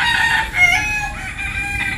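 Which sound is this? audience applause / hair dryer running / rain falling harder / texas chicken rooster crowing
texas chicken rooster crowing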